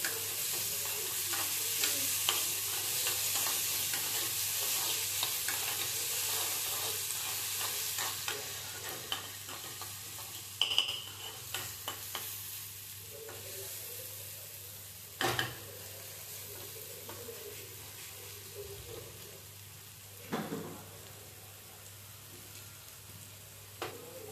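Deseeded tomatoes cooking in a pan for creamy pasta make a steady, soft sizzle with occasional stirring scrapes and clinks, heard alone without voices.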